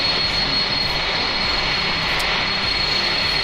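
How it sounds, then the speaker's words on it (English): Simulated airliner jet engines idle in a flight simulator A32NX after landing, a loud continuous roar with a steady high whine on top, unbroken and close, with no talking. "Who's still running engines?"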